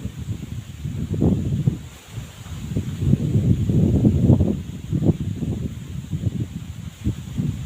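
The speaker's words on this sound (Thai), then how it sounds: "ลมพัดเย็นช่วยมาแล้ว" Cool wind gusts steadily across open rice paddies, rustling leaves and buffeting the microphone in uneven waves of low rumble, close and continuous with no voices.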